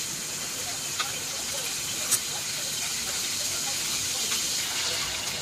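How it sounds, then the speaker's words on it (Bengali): Shrimp frying lightly in hot oil in a home kitchen, a steady close sizzling hiss throughout with a few small pops and crackles. "এবার তেলের মধ্যে চিংড়িটা নিয়ে হালকা ফ্রাই"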